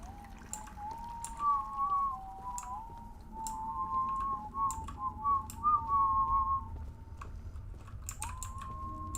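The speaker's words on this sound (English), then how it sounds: "you do your little whistling thing." Someone whistles a sustained, wavering tune at a moderate distance. Faint clicking and tapping run through it, like typing, and no one speaks.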